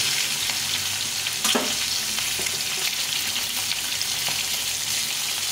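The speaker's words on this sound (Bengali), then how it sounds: "সামান্য হলুদ গুঁড়ো দিয়ে ডিমটাকে ভেজে নেব।" Eggs frying in a pan with a pinch of turmeric: a dense, even sizzle close up, broken by a few light scraping taps of a spatula, without speech.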